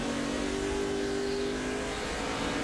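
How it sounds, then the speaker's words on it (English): A NASCAR race car at Richmond lapping with the driver feathering the throttle, a dense, steady engine roar heard close and loud for a few seconds with slight pulsing in the revs. "you can hear him feathering that throttle"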